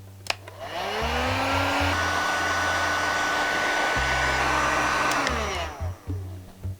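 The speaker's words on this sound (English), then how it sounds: "heat up the axle boot with the heat gun" Heat gun blowing hot air onto a one-piece axle boot: a loud, steady electric fan roar with a rising whine that starts after a second, holds for about five seconds, then cuts off.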